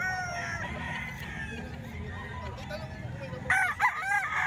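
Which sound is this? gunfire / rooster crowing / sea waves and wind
rooster crowing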